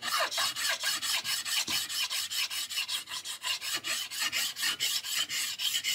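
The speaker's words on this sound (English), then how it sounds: "Going to use this file right here." A hand file flattens a part on a cheap child's Telecaster guitar, giving close, loud rasping strokes in a steady, quick back-and-forth rhythm of about four per second, with no voices.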